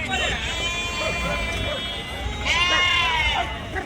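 Sheep and goats bleat in drawn-out, wavering cries amid a busy crowd at the weekly livestock market in Chilakallu, with people talking and market bustle in the background.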